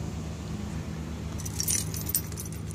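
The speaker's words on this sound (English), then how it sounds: "So here's the keychain after 9 months of usage." Keys on a leather keychain jangle briefly and brightly, close by, after a quiet stretch of low vehicle-like hum.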